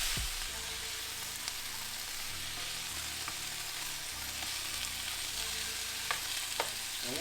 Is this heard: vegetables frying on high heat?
yes